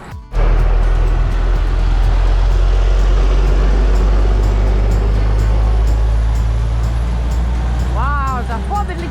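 A truck overtakes on a road between Budva and Ostrog Monastery, its heavy engine rumble and tyre roar loud and close, holding steady for several seconds before a voice speaks faintly at the end.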